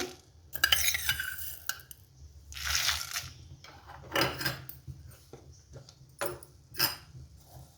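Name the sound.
adding coriander seeds to chillies frying in a pan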